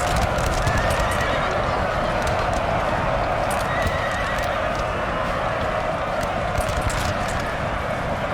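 A horse neighs and whinnies amid clattering hooves on a Napoleonic-era battlefield in the strategy game Napoleon: Total War, the steady, dense din of battle filling the background throughout.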